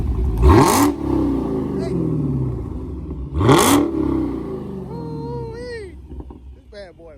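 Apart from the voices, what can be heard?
Dodge Hellcat engine revving through exhaust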